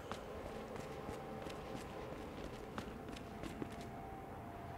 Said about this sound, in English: Thought I heard Mr. X's footsteps over there.